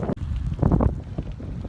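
Strong wind buffets the microphone on a rainy day while cycling into a headwind on Dartmoor, a loud, steady roaring rumble with one brief dropout.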